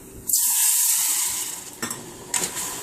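Water pours into a hot pan during a Chinese-style stir fry with a sudden loud hiss and sizzle, then settles into bubbling with a couple of clinks near the end.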